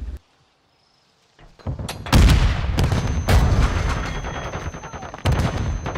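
Gunfire and explosions from the video game Call of Duty: Modern Warfare II erupt after a near-silent start, as loud sharp shots and bursts crack in quick succession.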